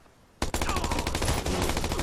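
Gunfire in Watch Dogs erupts after a brief quiet moment, a loud, close, sustained stream of rapid shots that continues without a break to the end.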